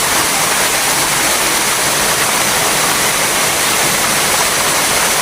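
A tropical waterfall roars in a steady, loud, unbroken rush of falling water with no pauses and no voices.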